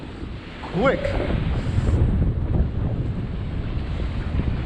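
Strong wind buffets the microphone over big ocean waves as a DJI Mavic Mini drone flies in sport mode above the water; a steady roaring rush throughout, with a brief spoken word near the start.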